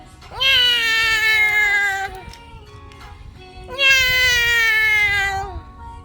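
A cat lets out two long, loud, drawn-out meows close by, separated by a short pause.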